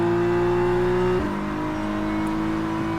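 A GT3 race car in the rFactor 2 sim at Autodrom Most holds a loud, steady engine drone that drops sharply in pitch with an upshift, then continues at a lower, even note. No one speaks.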